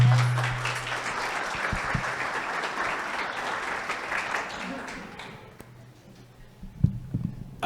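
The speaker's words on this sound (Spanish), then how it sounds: "Un aplauso, por favor, para la doctora." An audience claps for a doctor at a medical talk, a broad steady wash of applause that fades out after about five seconds, leaving a quieter room with brief voices and a few stray sounds.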